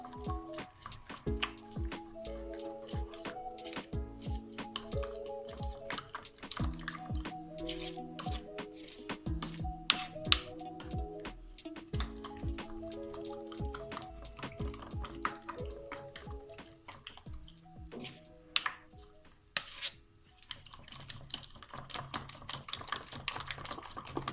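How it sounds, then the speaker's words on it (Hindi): A spoon stirs beaten eggs and chopped vegetables in a bowl for a vegetable sandwich filling. Quick, irregular clicking taps run on and on at close range, with brief pauses. "अब मैं अच्छे से इन्हें मिक्स कर लेंगे सब चीज़ों को"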